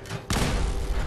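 A grenade explodes in Fallout 4 as one abrupt, heavy boom that cuts in sharply and leaves a loud, rumbling wash of noise behind it.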